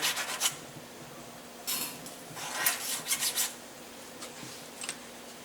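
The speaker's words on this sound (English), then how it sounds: "We'll take a little bit of file and make sure there's no burrs on there." Hand file rasping burrs off a Ruger 10/22 trigger part, heard as several short scraping strokes in separate bursts, close and fairly faint, with no talking.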